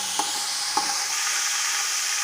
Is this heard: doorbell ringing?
no